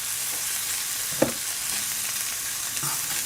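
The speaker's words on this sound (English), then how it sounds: "Basically just saute it in the pan just to heat it up a bit." Jamaican-style jerk tofu sautéing in a pan, a steady soft sizzle with a couple of brief stirring scrapes.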